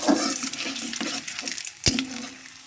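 Whole spices tipped into hot oil in a home kitchen while cooking Kashmiri aloo dum, giving a steady close crackling sizzle with a few stirring knocks and one sharp clatter near the end.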